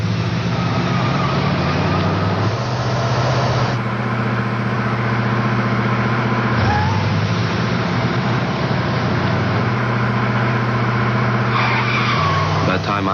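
A car accelerating hard with engine notes climbing and dropping through gear changes and tires scrubbing, loud and continuous for several seconds, with a voice speaking over it.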